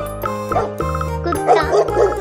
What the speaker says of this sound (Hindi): डॉग